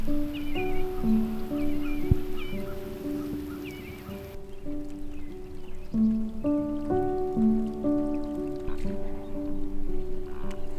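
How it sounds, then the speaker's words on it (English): Rain patters steadily on an SUV during a fall campout, a soft, even hiss of drops on the vehicle heard beneath gentle tonal music. "It's really starting to rain out there."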